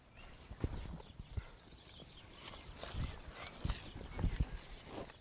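Horse hooves clip-clop on the ground in a Western setting, with a ridden horse and a second one led alongside. Irregular, fairly close steps land alone in sharp thuds over a quiet background.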